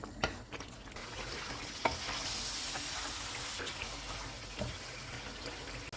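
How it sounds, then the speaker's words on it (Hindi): Chicken frying in a karahi over medium-high heat until the oil separates, a low steady sizzle with a few sharp spatula scrapes and clacks. "चूल्हे को मीडियम टू हाई कर देते हैं और इसको ऑयल अलग होने तक भून लेंगे"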